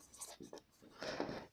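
A marker or chalk scratches short strokes on a board during a matrix and determinant lesson, faint and close, a few quick scribbles followed by a longer stroke.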